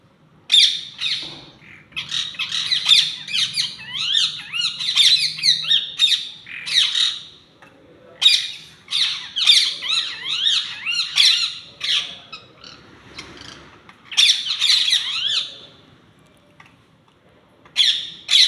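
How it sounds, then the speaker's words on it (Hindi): Flock of parrots squawking loudly and continuously in bursts, with a pigeon among them contesting scattered grain on a rooftop, the shrill calls close and overlapping with brief lulls. "देखिए कितने सारे तोते हैं और उनसे ये अकेला पंगा ले रहा है कबूतर।"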